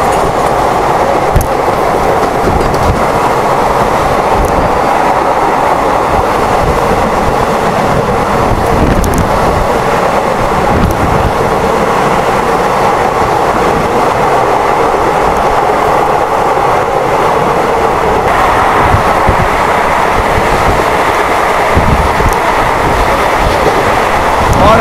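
Continuous loud rumble and rhythmic wheel clatter of a train departing Thane, India, in heavy monsoon rain, heard from inside a coach, with wind noise and no break throughout.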